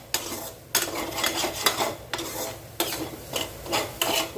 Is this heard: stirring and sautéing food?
yes